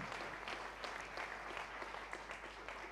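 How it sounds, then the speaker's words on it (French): Audience applause at a public mock tribunal event on artificial intelligence, a steady wash of clapping hands from a crowd that holds at an even level for about three seconds with no voices over it. "Nous pouvons l'applaudir."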